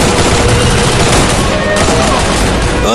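Loud, dense gunfire rattles in the mobile shooter Free Fire. Rapid overlapping shots and bursts fill the short stretch without a break.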